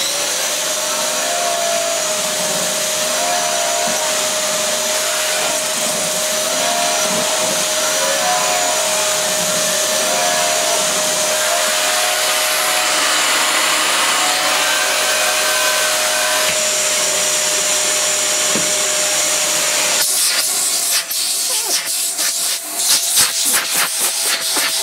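A Dyson DC54 Cinetic vacuum cleaner running steadily with a loud, airy hiss and whine, close by. It sounds rather like it is leaking air, and the tone changes with some clattering handling noise near the end.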